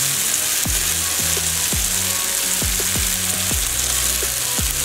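Pomfret fish frying on a tawa over high flame, giving a loud, steady sizzle throughout with a few low bubbling pops, no voices.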